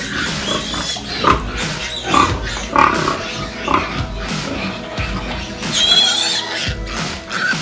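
Pigs squealing and oinking in bursts on a Cebu farm, a run of high, uneven cries over several seconds mixed with background clatter and faint voices.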